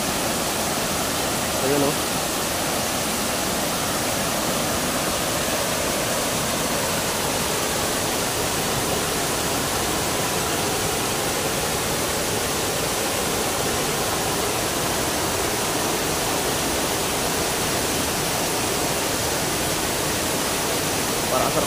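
Bantakay Falls in Sta. Catalina roars steadily: a loud, dense rush of falling water fills the whole stretch, with a brief voice barely rising above it.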